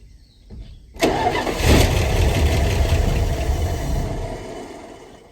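A 1974 Dodge D100 pickup engine cranks and catches, roaring up loudly and close, then running rough and gradually fading as it struggles to keep going.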